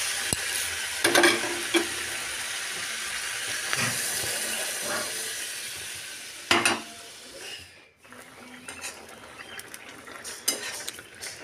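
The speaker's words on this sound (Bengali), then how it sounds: "মশলার মধ্যে আমি কষিয়ে নিচ্ছি" Katla fish curry with potato and tomato being sautéed in spices in a Bengali kitchen, with steady frying sizzle, stirring scrapes and occasional clinks of a utensil against the pan, close and moderately loud, without talk.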